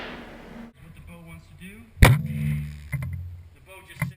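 A PSE Vendetta compound bow releases an arrow with a single sharp, loud thump and twang midway through, after a voice and some handling noise; a brief soft knock follows.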